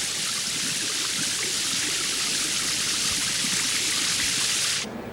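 Shower running water, a steady, loud hiss of spray that continues unbroken for several seconds and then cuts off abruptly near the end.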